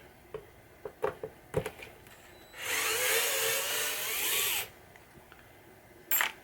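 Power drill backing screws out of a 1967 Williams Blast Off bagatelle pinball machine board, one steady whirring run of about two seconds, close up, with scattered clicks and handling knocks before and after.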